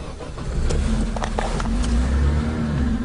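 A free car taken for a joy ride in Holland, its engine running steadily close by with a low rumble, the clutch worn near the top of its travel; no talking.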